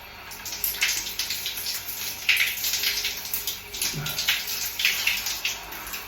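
Shower water sprays and splashes steadily while soap is rinsed out of hair, a continuous close hiss with small fluctuations.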